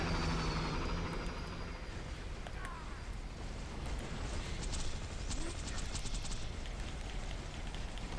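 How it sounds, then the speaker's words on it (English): Jet loader robots in Borderlands 2 fly overhead with a continuous loud engine roar and whoosh, mixed with faint crackles of game action. "I hear jet loaders."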